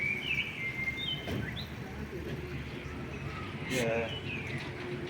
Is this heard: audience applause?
no